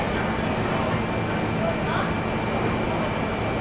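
A New York City 1 subway train rumbling along with a steady, loud, unbroken roar of wheels and car noise that fills the whole stretch, with faint voices mixed in.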